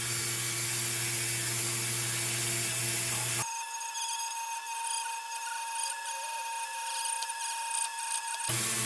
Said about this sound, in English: nylon wheel to this to get that rust off of there and bring back some of this nice shiny metal